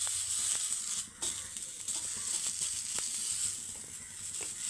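Thinly sliced carrots fry lightly in a pan for a homemade burger, a soft, even sizzle with faint scraping and stirring noises running throughout.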